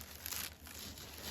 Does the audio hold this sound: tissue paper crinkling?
yes